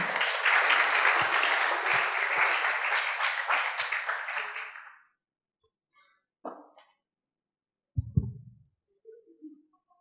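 Applause from an audience at a closing worship service, loud steady clapping for about five seconds that then stops abruptly, followed by a few scattered faint knocks and thumps.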